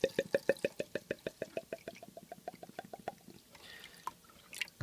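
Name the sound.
pouring water into an ultrasonic cleaner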